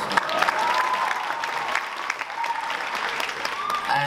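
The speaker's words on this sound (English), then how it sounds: "you can give him a round of applause" An audience at a film festival awards ceremony breaks into applause, dense clapping with a few faint cheers that carries steadily through the whole stretch while no one speaks.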